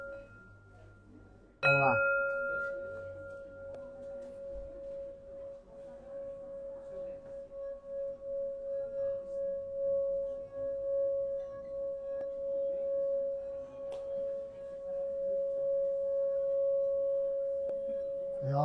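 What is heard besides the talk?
Tibetan bell ringing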